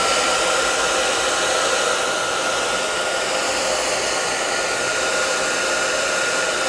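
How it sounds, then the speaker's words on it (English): A hair dryer blows steadily and loudly, a constant close whooshing hum with no pauses or voices. "I am just going to use my hairdryer"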